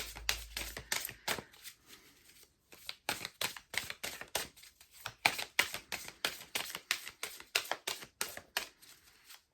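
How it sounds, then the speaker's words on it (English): Angel cards being shuffled by hand, a quiet close sequence of rapid riffling and flicking bursts with short pauses between runs. "And everybody's shuffling."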